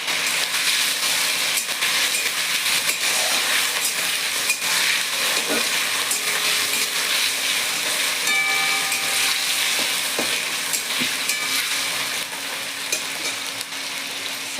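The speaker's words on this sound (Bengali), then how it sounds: "পনিরগুলো দিয়ে দিচ্ছি এবার আমি। দিয়ে দিয়েছি, ফ্রাই করবো একটু।" Paneer shallow-fries in a pan, a steady, loud sizzle that runs throughout with occasional clinks and scrapes of a utensil and no talking.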